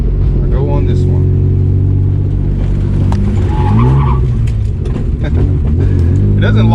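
A BMW E36 drift build with an e-brake extension and sway bar delete turns and brakes. A loud, close engine drone carries intermittent tire squeal and skid noise, with no clear speech.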